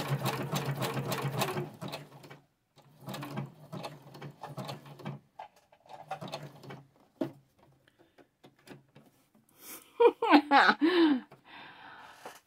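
A sewing machine stitches over the vein of a natural leaf. Quieter, scattered sounds come first, then a short, loud burst of rapid mechanical stitching near the end.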